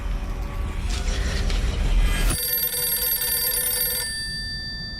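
Video game telephone ringing, a bright electronic ring that cuts in sharply after a rumbling mechanical passage, sustaining loud and tonal before fading to a softer ring.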